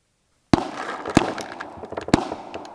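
Guns fire at targets outdoors, three loud sharp reports spaced about a second apart after a brief silence, with lighter cracks and echoes trailing between them.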